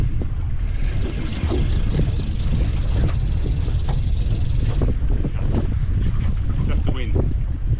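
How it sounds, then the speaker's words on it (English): Wind buffeting a microphone on a fishing boat at sea, a loud continuous rumbling roar with faint water sounds and some intermittent background noise throughout. "Just the wind."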